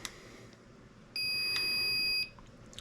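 Electronic speed controller of a Traxxas TRX-4 RC truck emits a single steady calibration beep lasting about a second, loud and clear against a quiet room with no talk.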